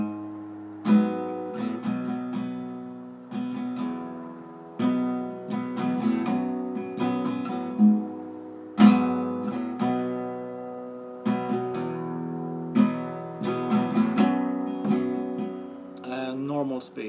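A guitar slowly plays the riff of a song, moving the bass notes under held chord shapes. Notes and chords are plucked one at a time and left ringing, close and clear, with no talking.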